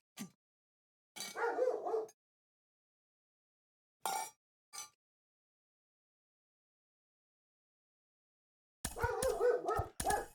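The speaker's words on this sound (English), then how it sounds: "I don't know what that dog hears." A dog barks in separate bursts: a single yelp, a longer run of barks, two short barks, then another sustained volley, each close and loud with silence between.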